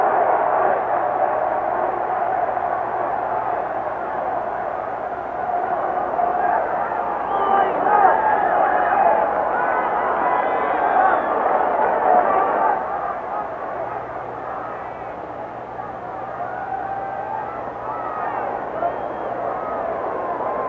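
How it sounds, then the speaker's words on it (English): A large football stadium crowd chants "beat LA" at the 1984 USFL Western Conference Championship between the Los Angeles Express and Arizona Wranglers, a dense, steady roar of many voices swelling slightly midway and carrying on throughout. "Crowd continues to chant, beat LA."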